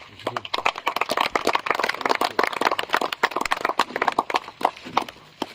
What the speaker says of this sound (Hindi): और एक बार तालियां